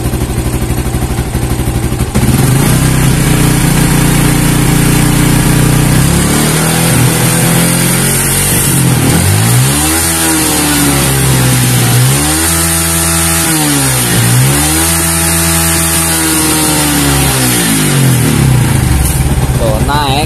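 A Yamaha Old Vixion motorcycle with a misfiring engine and a weak charging system idles close by, then is revved in three rising and falling throttle blips, loud and steady throughout.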